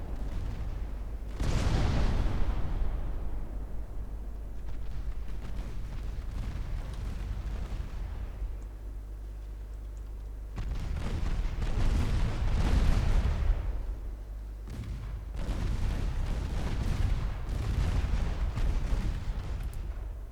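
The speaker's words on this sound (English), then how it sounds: "3-inch guns doing the majority of the work here" Naval gunfire from 3-inch guns on cruisers in Ultimate Admiral: Dreadnoughts, with repeated booming salvos rolling through three loud bursts over a steady low rumble.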